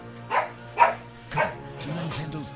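A dog barks three times in sharp, spaced bursts indoors, then whimpers and yips in a rising, whiny run, sitting behind a steady background hum.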